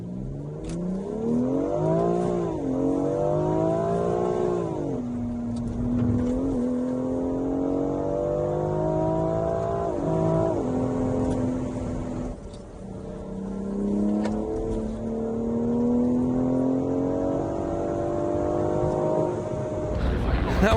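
Car on a hill-climb run at a supercar event, close and loud, its engine climbing in pitch through several gear changes with the drop between each shift, steady and sustained for about twenty seconds.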